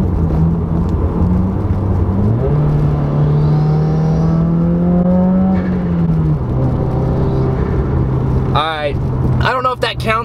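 Engine of a Subaru WRX with a large rear wing droning steadily from inside the cabin as another car draws alongside and passes, pitch rising and falling with a brief roar near the end; no talking.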